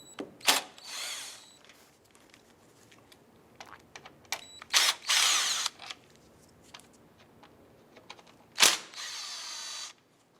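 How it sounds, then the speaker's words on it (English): Cordless driver fitted with a T30 Torx bit backs out screws on a 2011-2019 Ford Fiesta during headlight removal, giving several short close whirring bursts separated by quiet handling noises. "we're going to use a T30 Torx bit and remove the 3 Torx bit screws"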